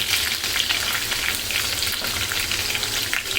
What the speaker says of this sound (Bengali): পেঁয়াজটা দিয়ে কিছুক্ষণ পেঁয়াজের কাঁচা গন্ধটা মানে যাওয়ার আগ পর্যন্ত ভেজে নিতে হবে